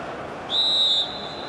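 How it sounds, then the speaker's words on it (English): A referee's whistle gives one clear, sustained half-second blast over the steady roar of the crowd at a Leicester City versus Chelsea football match. "Mike Dean blows his whistle"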